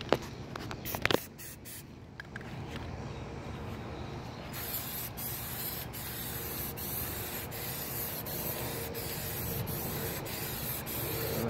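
Plasti Dip rubber coating sprays from an aerosol can onto the wheels of a 2018 Ford Explorer as a steady, continuous hiss. A few short clicks and knocks come first, then an unbroken spray runs for the rest of the stretch.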